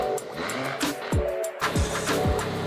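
A BMW 118i converted to a B58 M140i engine revs hard, its exhaust snapping through several quick blips that rise and fall with crackles in between, close and loud.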